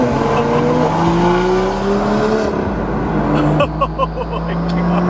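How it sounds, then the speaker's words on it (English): A modified 745-horsepower BMW M4 engine revs and roars loudly nearby, rising and falling in pitch through a couple of throttle pulls, with people talking over it. "This car sounds so good."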